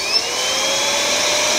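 A pump switched on to drain a 19,000-gallon swimming pool runs as a loud, steady motor whine that holds level and climbs slightly in pitch throughout.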